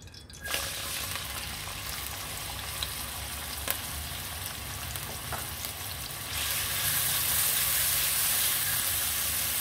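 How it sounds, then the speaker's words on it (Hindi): Chopped onions frying in oil in a kadai, with a steady close sizzle that grows louder and brighter partway through, with a few faint stirring clicks. "ऑयल मैंने कढ़ाई में ले लिया, तो इसमें मैं 3 चॉप किए हुए प्याज ले लूँगा।"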